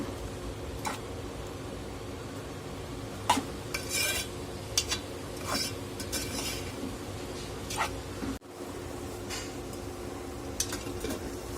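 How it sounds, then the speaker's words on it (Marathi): A vegetable curry of radish pods is stirred in a pan after water has been added, with a steady scraping and intermittent clinks of a utensil against the pan at close range and no talking. "पाणी आपण बँडिंगसाठी घालून घेणार आहोत आणि परत एकदा छान मिक्स करून भाजी वाफून घेणार आहोत"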